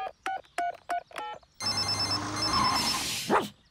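Telephone in a Peppa Pig cartoon rings in several short, evenly spaced bursts, followed by a sustained electronic tone and music with no voices.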